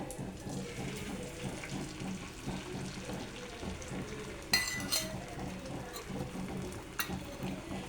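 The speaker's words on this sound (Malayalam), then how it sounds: "ഇതിനകത്തോട്ട് നമുക്ക് അടിച്ചു വെച്ചിരിക്കുന്ന മുട്ട ഇതിനകത്തോട്ട് ഒഴിച്ചു കൊടുക്കാം" Beaten eggs hitting melted butter in a pan and starting to fry, a steady soft sizzle throughout with a sharper splash and clink around the middle and another brief clink near the end.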